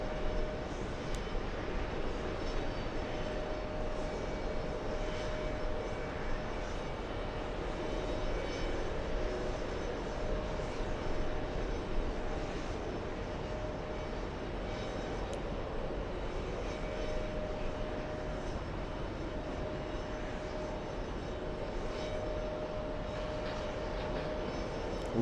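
An airliner on the world's longest flight, arriving from Singapore, passes overhead as a steady, broad engine roar with a low hum, sustained and even throughout.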